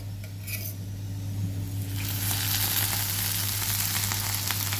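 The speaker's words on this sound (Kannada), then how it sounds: "ಇದು ಅರ್ಧ ಹುರಿದಿದೆ ಈ ಸ್ಟೇಜಲ್ಲಿ ಎಣ್ಣೆ ಹಾಕೋತೇನೆ" Okra (ladies finger) half-fried in a pan as more oil is added, a close, steady sizzle that grows louder and fuller partway through, with no voices.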